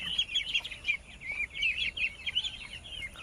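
A group of 20-day-old local domestic ducklings peep and chirp in a busy, overlapping chorus, close by and moderately loud, with no voices.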